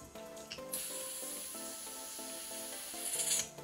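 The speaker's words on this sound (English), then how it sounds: "Just add some gas to these machines." Butane gas being pushed into a torch for wood burning gives a steady, close hiss and rubbing spray with a faint high whine, swelling briefly toward the end.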